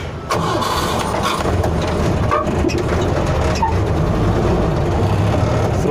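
A 1971 Willys CJ-3B petrol jeep engine runs loud and steady close by, with a rough, uneven low rumble throughout and no talking.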